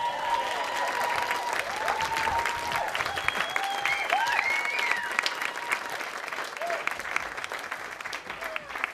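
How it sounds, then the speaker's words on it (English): Wedding guests applaud in a sustained round of clapping that fills the room, dense and steady throughout with a few cheers and whistles rising over it. "So can we have a round of applause now?"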